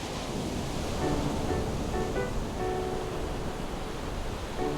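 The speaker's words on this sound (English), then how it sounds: "we're staying close to the beach where the waves are smallest and easy to ride" Ocean surf near a beach where small waves break, a steady broad wash of noise without voices, with faint tonal sounds flickering above it.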